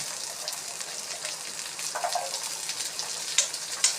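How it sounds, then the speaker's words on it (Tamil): Small shallots dropped into a pan of hot oil for a Tamil manathakkali keerai kootu, giving a steady close sizzle and crackle with a few louder pops toward the end and no voices. "சின்ன வெங்காயம் போட்டுருவேன்"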